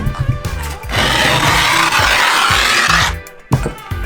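A coarse steel file scrapes hard across skateboard grip tape in one long, loud, rough stroke, bracketed by brief handling noises.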